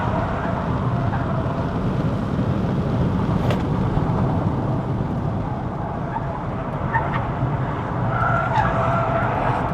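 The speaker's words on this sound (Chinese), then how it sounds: "只是说轮胎不太抓地而已" A 2026 Leapmotor B10 climbs the mountain road to Genting, its tyres losing grip with a sustained roar of rolling and scrubbing rubber plus brief squeal-like streaks over the steady cabin drone, with no voices.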